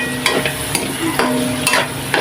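Oil crackles and pops in a pan while pancit canton fries, a close, steady sizzle punctuated by several sharp irregular pops, with no talking.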